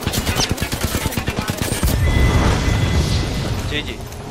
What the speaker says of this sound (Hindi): मैं तो मुंह पे मार रहा हूँ यार थर्मल ग्रेनेड मुंह पे